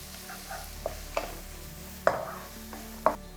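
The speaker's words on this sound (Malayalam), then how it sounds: "ഒന്ന് മിക്സാക്കി എടുക്കുക." A spoon stirs curry leaves, cashews, raisins and chopped green chillies in a pan for semiya upma, giving four or five sharp scraping taps over a faint, steady sizzle.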